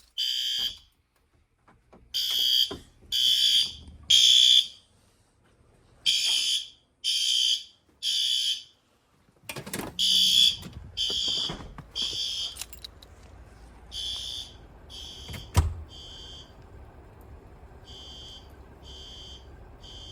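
A garage fire alarm horn strobe sounds during an annual system test. Loud pulsed horn blasts come in a regular rhythm, then break off into clatter before fainter repeated pulses return.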